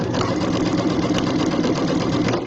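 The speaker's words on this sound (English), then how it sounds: "I'm sewing on fabric on both sides on this one" A sewing machine runs steadily, stitching fabric on both sides with a quarter-inch seam for a project bag, a close, fast, even mechanical whir and patter lasting the whole stretch.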